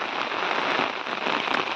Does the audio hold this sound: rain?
yes